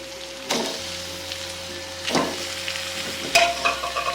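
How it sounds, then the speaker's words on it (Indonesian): Chicken pieces sautéing with galangal and a little salt in a pan, with a faint steady sizzle and three sharper scraping stirs spaced about a second and a half apart, close by and without talk. "Aduk-aduk, kita tumis sebentar ayamnya."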